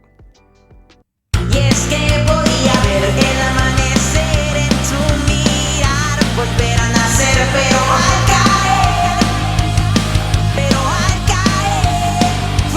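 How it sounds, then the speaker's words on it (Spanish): Sung Spanish vocal with a plate reverb from Studio One's stock reverb plugin, over a full, loud backing mix; the voice carries a smooth lingering tail after a brief quiet lead-in. "En este caso estoy utilizando el reverb de Studio One"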